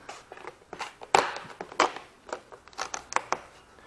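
Razor knife slicing through the rigid plastic part of a door weather strip: a string of short, scratchy cuts and crinkles, louder in the middle, with no talk.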